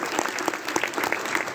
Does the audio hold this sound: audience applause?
yes